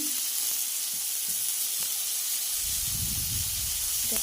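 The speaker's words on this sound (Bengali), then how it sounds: "এটাকে আলাদা করে ভাজা করছি" Pointed gourd sizzles in hot oil in a pan with a steady bright hiss, and a low bubbling rumble swells toward the end.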